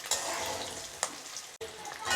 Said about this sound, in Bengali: আপনারা চুলার তাপটা হালকা আঁচে রেখে এইভাবে হালকা করে লাল করে ভেজে নেবেন।